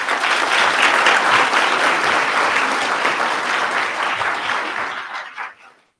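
A graduation audience at Tar River Academy's winter ceremony gives a loud, sustained round of applause for two graduates, steady for about five seconds before tapering off quickly.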